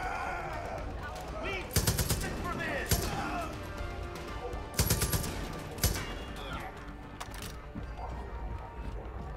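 A heavy gun firing in the open-world shooter Far Cry 5, several loud booming bursts spaced a second or two apart over a steady din of game noise, with a voice talking now and then.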